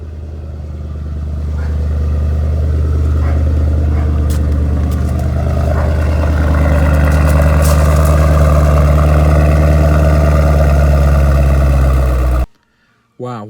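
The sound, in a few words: car engine starting and idling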